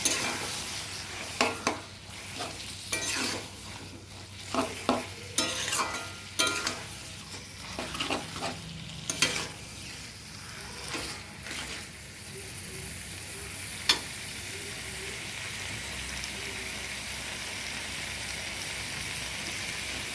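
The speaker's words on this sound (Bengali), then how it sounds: "চিংড়ি মাছ দিয়ে মধ্যে সিদ্ধ করে রাখা কচু শাকটা দিয়ে দেবো। দিয়ে একটু নাড়িয়ে নেব।" Boiled taro greens stirred with shrimp in a hot pan, irregular clattering scrapes of a spoon over a soft sizzle, the stirring stopping halfway while the quiet frying continues alone.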